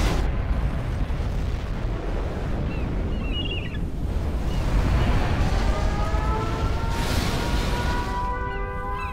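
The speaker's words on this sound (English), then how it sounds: "Nuclear missile launched." A nuclear missile explodes in the strategy game C&C Generals Zero Hour, a loud, sustained roaring rumble with a wind-like broadband rush that swells and holds steady for several seconds, with no one talking.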